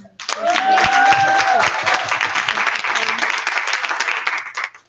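A crowd at a church Vacation Bible School claps in thanks to the chefs. The applause starts abruptly and stays loud and steady for several seconds before thinning slightly, with a few brief voices and whistle-like tones rising over it.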